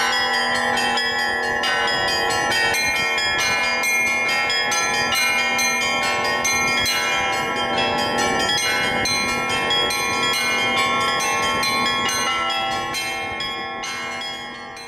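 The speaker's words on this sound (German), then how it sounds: "Mit 4 Jahren stieg Kirill zum ersten Mal auf den Glockenturm und eigentlich kam er seitdem nie mehr herunter." Russian church bells rung by hand by a bell-ringer in a bell tower, loud and close, a dense layered peal of many bells with steady rhythmic strikes that keep ringing without voices.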